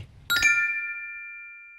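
A bright notification bell dings once with a sharp strike, then rings out clearly as a clean, slowly decaying tone, alone and close.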